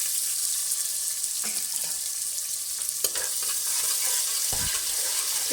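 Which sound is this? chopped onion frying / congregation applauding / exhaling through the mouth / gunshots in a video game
chopped onion frying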